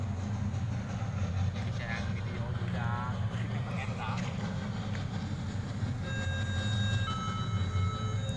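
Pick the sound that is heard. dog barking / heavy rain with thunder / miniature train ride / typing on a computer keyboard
miniature train ride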